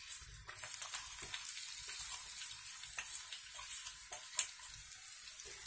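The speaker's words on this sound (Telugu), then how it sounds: "ఈ పచ్చిమిర్చి పేస్ట్ కొంచెం ఫ్రై అవ్వాలి" Green chilli and salt paste frying in a pan for lemon rice, a steady crackling sizzle with small pops and faint stirring scrapes throughout, close and moderately quiet, no voices.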